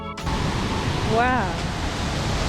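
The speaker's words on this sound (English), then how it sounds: "Our final stop from the tour was the Wachiratan waterfall." Wachirathan waterfall in Chiang Mai, Thailand, rushes in a constant, full roar of falling water, while a voice briefly exclaims over it midway.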